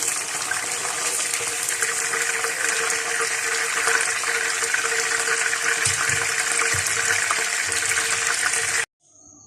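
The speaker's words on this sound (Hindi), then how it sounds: "बाकी भी जो चिकन रह गया है वो भी फ्राई कर लूँगी।" Pieces of marinated chicken tikka fry in hot oil, giving a steady, loud, close sizzle that runs without pause and cuts off abruptly near the end.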